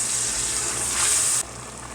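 Ginger, garlic, tomato and green chilli paste hits a pan with onions over high heat, giving a loud, dense hiss that steps down abruptly to a softer steady sizzle.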